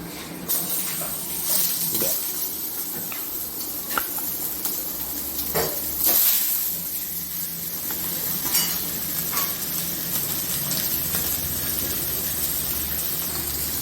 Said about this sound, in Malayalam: നല്ല ചെറിയ തീയിൽ കുറച്ച് നേരം ഒന്ന് ഇത് വലിയ മീനാണ് അപ്പോൾ ഉള്ളൊക്കെ ഒന്ന് വേണം വേണ്ടി ചെറിയ തീയിൽ കുറച്ച് നേരം ഒന്ന് ഫ്രൈ ചെയ്തെടുക്കാം